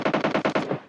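Bots in a PUBG-style shooter game fire a rapid automatic burst of about seven evenly spaced shots, loud and punchy, with the final shot trailing off.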